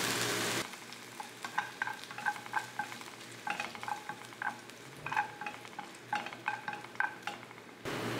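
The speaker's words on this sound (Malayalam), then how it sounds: "നമുക്ക് ആ തേങ്ങാക്കൊത്തൊന്ന് വറുത്തെടുക്കണം" Coconut pieces frying in ghee for unniyappam and neyyappam, a close, steady crackling sizzle with bursts of spattering popping in repeated clusters, alone with no voices.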